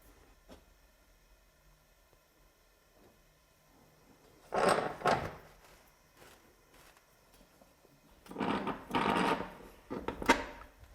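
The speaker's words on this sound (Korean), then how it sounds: "지금 이제 불을 다리고 문을 닫아 보겠습니다." A ceramics kiln door is closed after the fire is lit at an Icheon pottery, producing two bursts of heavy scraping and clanking against a low, steady background hum.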